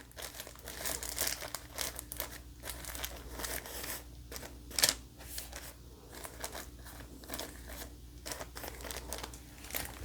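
Crinkling of a plastic bag, close and fairly quiet, with bursts of rustling and crackling that come and go irregularly.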